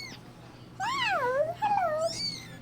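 A cat meows three times up close, each call a clear, drawn-out rise-and-fall cry separated by short pauses, with no talking over it.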